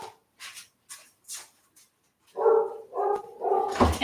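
A dog barks in a home, first as a few short, sharp barks spaced apart, then as a run of louder, longer, close barks and whining yelps, with no talking.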